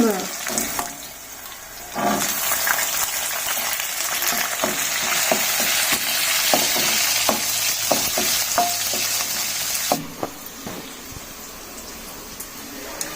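Green chilies fry in hot oil in a pan, a continuous crackling sizzle with sharp pops and bursts near the mic, surging louder midway and easing after a sudden drop, with no talk.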